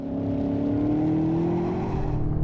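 BMW M8 Competition 2020 engine pulling hard under acceleration on a race track in manually shifted gears, a steady rising drone that climbs in pitch for a couple of seconds, loud and close inside the car.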